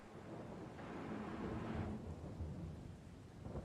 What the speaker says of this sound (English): we've got a thunderstorm rolled through